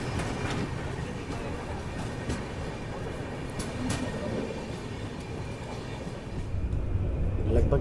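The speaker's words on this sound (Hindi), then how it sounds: "लगभग 130 की रफ्तार से अपनी गाड़ी लगातार अभी चल रही है।" Bangalore Rajdhani Express running at about 130 km/h, heard from inside a first AC coach as a steady, dense rumble of wheels on track with faint clicks, rising slightly toward the end.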